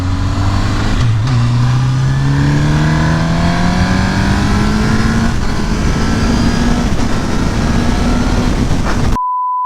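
A Honda CBR1000RR sport motorcycle engine revs loudly and continuously, pitch climbing steadily as it accelerates through gears, then cutting off abruptly to a brief tone.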